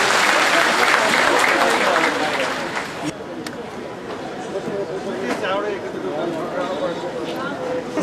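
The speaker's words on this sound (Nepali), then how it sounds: "एकचोटि ताली बजाइदिनको लागि म अनुरोध गर्न चाहन्छु" Audience at a national party congress closing session applauds, a dense wash of clapping that starts loud and full, dips slightly after a few seconds, then continues steadily throughout.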